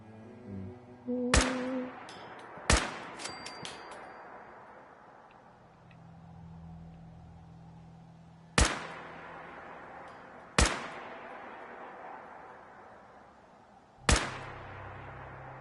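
Gunfire from gunners in a video game: several sharp, loud single shots spaced irregularly, each ringing out with a short decay over faint background rumble.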